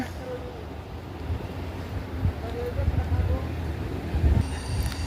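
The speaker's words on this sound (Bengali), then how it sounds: "এই যে একটা ট্রেন যাইতেছে আর একটা ট্রেন আসতেছে দুইটা ট্রেন" Two trains passing each other at a station in the evening, a low rumbling roll of wheels and carriages throughout, moderately distant, rising slightly toward the end.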